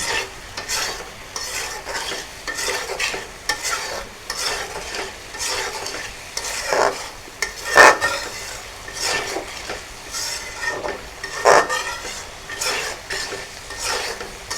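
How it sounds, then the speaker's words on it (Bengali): Pieces of previously fried chitol fish are sautéed in a pan, with steady sizzling under repeated scraping spatula strokes and two sharper knocks against the pan, close and fairly loud. "মাছগুলো দিয়ে একটু কষিয়ে নেবো"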